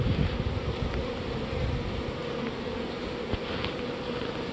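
Honey bees buzzing around a queen-rearing hive, a steady, dense drone from many insects close by, with faint wind noise and no talking.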